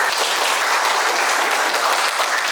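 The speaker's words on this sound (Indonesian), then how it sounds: "Oke, kita beri tepuk tangan untuk kalian semua ya." Students in a classroom give a short, even burst of clapping, many hands together at a moderate level, with no voices over it.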